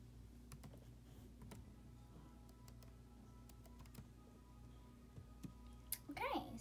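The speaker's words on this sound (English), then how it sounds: "I was just gonna type to Kennedy for a second" Keystrokes on a computer keyboard during a Roblox session, a quiet run of light clicks over a steady low hum, ending in a brief burst of louder sound.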